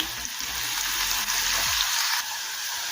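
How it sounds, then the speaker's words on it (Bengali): Loud, steady crackling sizzle of chopped onion frying in hot oil, continuous throughout with a brief low thump midway. "পেঁয়াজটা লাল করে ভেজে নেব"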